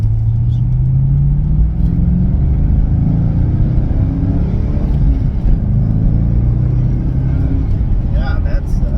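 A V8 engine in a manual Chevrolet C5 Corvette revs and accelerates with a deep, steady rumble, close and loud throughout, with faint speech mixed underneath.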